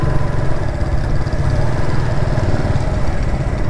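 A motorcycle engine runs loud and close in a steady, throbbing idle with a slight rise in revs as a learner rider eases out the clutch during a training session, with no talking.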